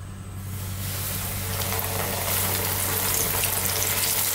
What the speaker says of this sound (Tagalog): So, ayan po, mainit na yung ating mantika.